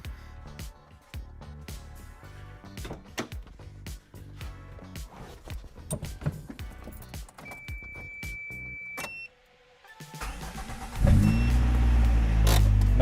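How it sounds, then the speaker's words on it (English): A car that has sat idle for a few days on a workshop lift cranks and starts, then settles into a loud steady idle, with clicking and clattering work noises before it. "All right, the car runs."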